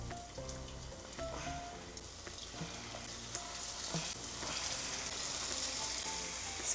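Cabbage Manchurian patties frying slowly in a pan, a soft, even sizzle with faint crackles running continuously, gently rising toward the end, no speech.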